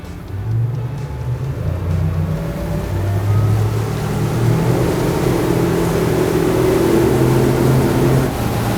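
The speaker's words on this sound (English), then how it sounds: "now we just got the boat up on plane" Motorboat powering up onto plane, a loud steady engine drone whose pitch climbs gradually as the hull speeds up, with rushing water and wind noise throughout and no talk.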